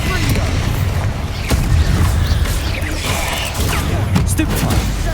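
Bombarda blasting spell going off in the Hogwarts Legacy game, a dense, loud burst of booming impacts and crashing debris over steady low rumble, with battle shouts mixed in.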